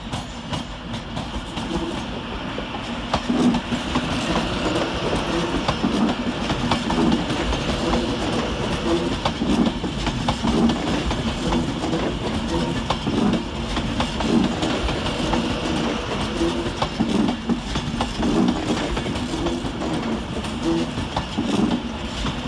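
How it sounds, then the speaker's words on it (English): Avanti West Coast Class 390 unit 390-135, a London Euston service, rolling into Manchester Piccadilly to terminate, a steady rumble of wheels and clickety-clack over the track with faint squeals, continuous and moderately distant under station ambience. "Next in arriving to terminate some 21 minutes late with Avanti West Coast service off London Euston is 390-135"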